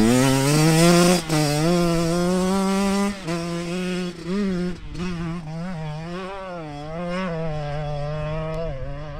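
A Kawasaki KX112 dirt bike climbs a massive hill, its engine wailing at high revs in a loud buzzing drone that dips and rises as the throttle is worked and eases off toward the end, with no talk.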